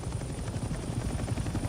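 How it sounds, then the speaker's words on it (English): A helicopter circles in the HLL Vietnam video game, its rotor thumping in a fast, steady rhythm, loud and close with no talk over it. "The helicopter is circling about"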